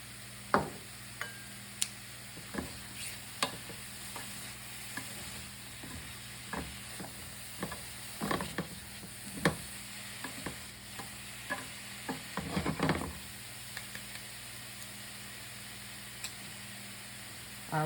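Mushrooms, onions and celery cook down in a single pan with a soft, low sizzle, punctuated by repeated sharp clicks and scrapes of stirring, busier near the end; no speech.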